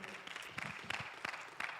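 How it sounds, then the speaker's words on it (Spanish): Church congregation applauding, a faint scatter of claps with a few louder bursts and voices mixed in. "Give a loud applause to the Lord."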